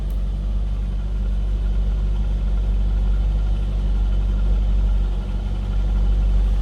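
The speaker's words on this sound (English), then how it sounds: "It's a nice, deep, throaty exhaust note under throttle." A 2004 Chevrolet Corvette custom convertible's deep, throaty exhaust rumbles steadily and close by under throttle, a constant low drone with no pauses.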